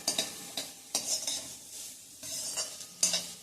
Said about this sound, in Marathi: 1 ते 2 मिनिट एवढं आपण ह्या भाज्या परतून घेणार आहे